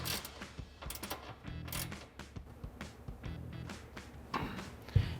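A 13mm ratcheting wrench tightening bolts on a Jeep Wrangler JL rear storage security cover, with faint rapid ratchet clicks and mechanical creaks in quick bursts, quiet and close, ending in a sharp knock.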